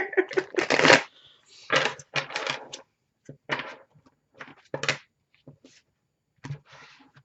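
Tarot cards are shuffled in several short, uneven riffling bursts with pauses between, close up and crisp.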